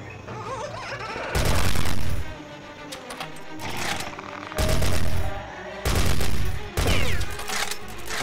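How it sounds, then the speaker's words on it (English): Rapid machine-gun bursts from the Dino Strike dinosaur shooting game, several loud sustained volleys separated by shorter pauses with lighter game sounds between them. "Using machine gun now."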